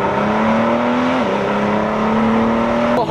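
A 2017 Ford GT engine drones loud and close under acceleration, its steady tone climbing, dipping briefly at a gear change and then rising again, with a quick burst of noise at the very end.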